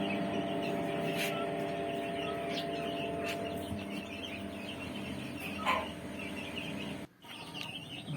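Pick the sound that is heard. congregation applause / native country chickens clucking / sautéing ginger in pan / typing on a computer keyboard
native country chickens clucking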